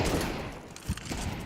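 Rapid pistol gunfire in a Counter-Strike match, dense overlapping shots packed into a short loud burst with a blur of game noise behind it.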